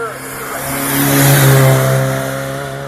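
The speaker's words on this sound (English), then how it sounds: "the Ford Sierra Sapphire Cosworth, 2-litre turbocharged, 4-wheel drive" A Ford Sierra Sapphire Cosworth rally car, 2-litre turbocharged with four-wheel drive, accelerates uphill at a hillclimb, its engine note rising and swelling loud at mid-point then easing, under a commentator's voice.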